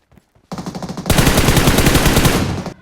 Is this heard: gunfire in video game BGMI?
yes